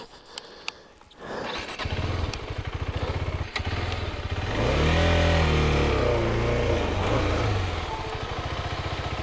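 A KTM 390 ADV motorcycle on the rough Chiva Falls trail idles with a rapid thumping pulse, then revs up into a loud, sustained engine roar close by.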